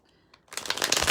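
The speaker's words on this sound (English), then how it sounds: "So I do a casino shuffle." Tarot cards riffled together in a casino-style shuffle: a faint tap or two, then a loud, dense burst of rapid flicking card edges that runs to the end.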